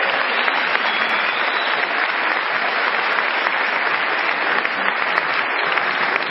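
A large audience at a motivational talk in Bogotá applauds steadily, a dense, even wash of clapping that holds at the same loud level throughout with no voices over it.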